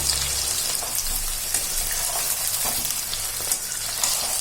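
Whole brinjals sauté in hot oil with onions for a Tamil vatha kuzhambu, giving a steady close crackling sizzle, fine and even, like rain on a surface. No voices are heard.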